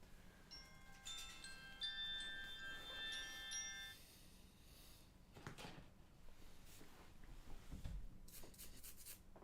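Old toothbrush scrubbing over a plastic model kit, with short bristly rubbing strokes at close range and a few soft knocks and handling clatters, plus faint tonal whines in the background.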